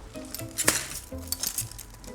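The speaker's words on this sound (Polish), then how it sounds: "Uwaga, szkło." Glass items clinking and tapping together while a parcel is unpacked, a series of light, close clinks with one sharper knock near the middle, over soft rustling and no speech.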